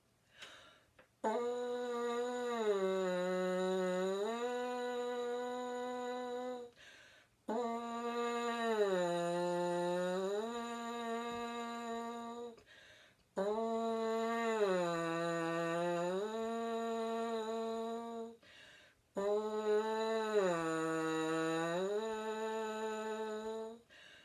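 French horn mouthpiece buzzing in four long phrases, each holding a pitch, sliding down in a siren and back up to the same note, with short pauses between, clear and close with no talk.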